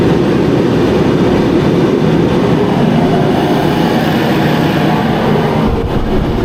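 Mr. Heater Contractor Series propane and diesel forced air heater at its 60,000 BTU maximum, a loud, constant rushing roar of fan and flame, steady throughout and heard close with no one talking.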